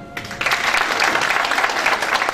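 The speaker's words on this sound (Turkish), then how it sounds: "Önce bir alkışlayalım." Audience applause at a Turkic community commemoration panel welcoming a poet to the microphone, a sudden burst of dense clapping that starts after a quiet moment and stays loud and even for about two seconds.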